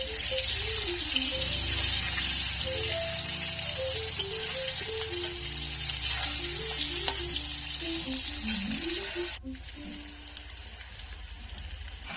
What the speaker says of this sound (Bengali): তেলটা ভালো মতো গরম হয়ে গেলে কাটা বেগুনগুলো দিয়ে আমি বেগুনটাকে ভালো করে ভেজে তুলে নেব।